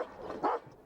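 Search and rescue dog on a rubble pile giving one short, fairly faint bark, a quick yelp-like burst standing alone with no talk.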